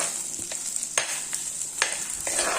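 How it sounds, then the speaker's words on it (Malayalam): Shallots sautéing with ginger and garlic for a prawn curry, a steady sizzle broken by rhythmic spatula scrapes and taps against the pan, close and without talk. "ഈ ചെറിയ ഉള്ളി നല്ലതുപോലെ ഒന്ന് വാടണം"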